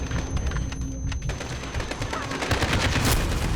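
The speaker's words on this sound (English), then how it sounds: "That's what I get for shooting to the right of him and not at him." Rapid gunfire from a Call of Duty: Modern Warfare (2019) mission, a dense run of close, loud shots that keeps going for several seconds with no pause.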